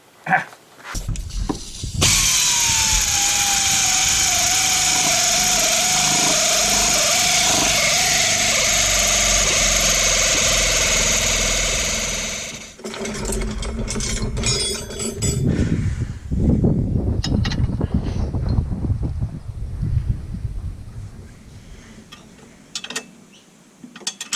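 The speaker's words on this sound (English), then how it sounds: "let's keep doing some nuts up" During suspension repairs on a Triumph 2500 Mk I, a power tool whines steadily for about ten seconds while nuts are run up, then stops, followed by clunks, rattles and handling noise nearby.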